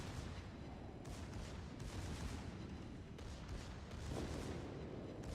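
Rapid, dense bursts of battleship secondary gunfire in a close-quarters naval video game battle, a continuous loud crackling barrage of overlapping shots with no pauses.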